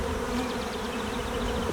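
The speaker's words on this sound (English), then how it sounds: "Man, there's bees." Honey bees buzz densely around a hive, a steady, close, many-winged drone with no pauses and no voices.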